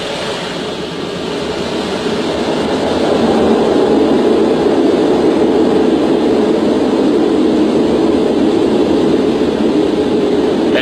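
Concorde jet engines during takeoff, a steady, loud, broad roar that builds over the first few seconds and then holds at full power without letting up.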